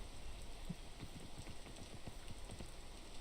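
Rain falls in the video game Peak as a steady, soft hiss with scattered faint patter, low and constant throughout, with no voices.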